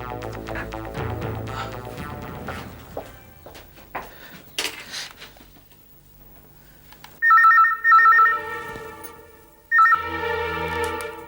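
A telephone rings in two bursts of electronic trilling after some clattering handling noises, with a quiet gap between the rings.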